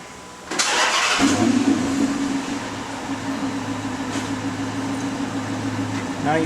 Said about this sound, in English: I'm going to turn the ignition on and start the car up.